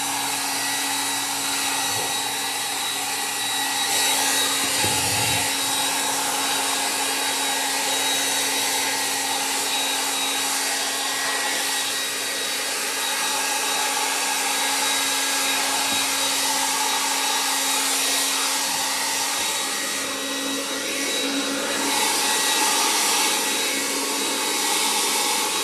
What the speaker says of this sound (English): Watch Barb blow dry her back.